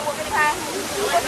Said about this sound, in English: that was the waterfall